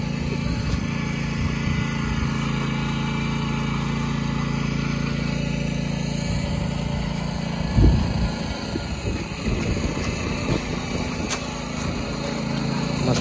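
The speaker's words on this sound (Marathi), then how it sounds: "ट्रॅक्टर आणि चिखलाची चिखल करण्याचं काम चालू हा।" A tractor puddles mud in a flooded paddy field in the Konkan countryside, its engine a continuous steady drone at middle distance with faint irregular bumps.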